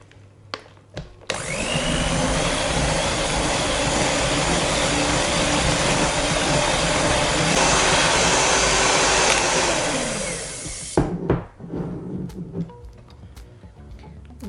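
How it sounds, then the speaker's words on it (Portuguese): An electric mixer beats cream cheese into batter, running as a loud, steady whir for about ten seconds before stopping, with clicks and clatter before and after. "Agora eu vou adicionar o creme cheese. E vou bater novamente."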